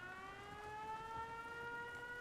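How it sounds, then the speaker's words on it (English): A settlement siren in Fallout 4 wails steadily, a sustained rising tone with layered harmonics, loud and alone with no voices. "They will flip the siren."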